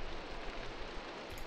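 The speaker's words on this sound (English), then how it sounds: "Oh, now it's raining on top of..." Steady rain falling in the Minecraft Enigmatica 2 Expert modpack, a dense even hiss of drops without pauses, loud and close, with no voices over it.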